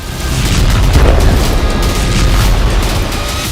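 Explosion from a Ukrainian drone attack on Toropets, Russia: a heavy, sustained low rumbling boom filling the whole stretch, loud and distant-sounding, with no voices.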